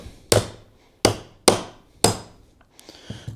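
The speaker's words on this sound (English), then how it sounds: "We're trying to drive these pins out." Sharp hammer blows driving pins out of a gun part during suppressor prep, four loud metallic strikes at uneven intervals followed by a couple of lighter taps.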